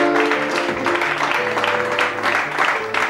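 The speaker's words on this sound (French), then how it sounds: "On l'applaudit." A television studio audience applauds with dense, sustained clapping for a few seconds, loud and continuous, over a faint musical backing.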